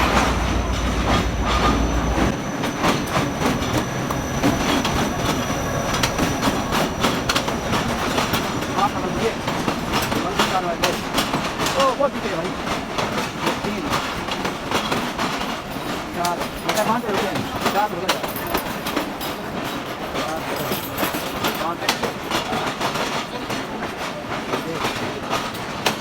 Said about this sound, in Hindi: तो भाई आ गए रहमान बाबा एक्सप्रेस।